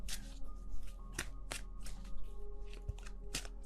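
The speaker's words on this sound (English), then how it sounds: "let's put down the other cards" Tarot cards are shuffled, handled and laid down close up, making continuous papery riffling, rustling and soft slaps with intermittent sharper taps.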